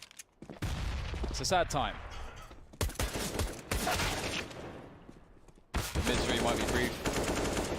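Counter-Strike pistol fire cracks in bursts of rapid shots between short gaps, under a commentator talking.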